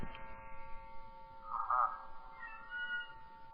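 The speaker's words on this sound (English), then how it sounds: "that's my cat saying hello to you" A single drawn-out cat meow rises and falls in the middle, fairly faint, over a low steady electrical hum.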